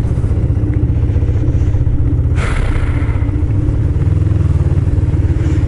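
A motorcycle rides through traffic at a light, its engine loud and close with a steady mid-range drone throughout and a brief rising burst midway, with no voices.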